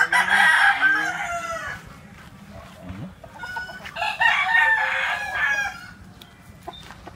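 A yellow-legged hatch gamefowl rooster on a game farm crows loudly twice in a row, with more clucking fowl and faint farm noise around it.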